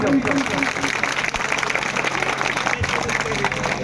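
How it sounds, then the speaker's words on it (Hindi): Audience applause at a village political gathering comes as a steady, fairly loud crowd clapping that fills the whole span, with some voices mixed in. "आप अपने प्रति एक बार ताली बजा दीजिए सभी लोग।"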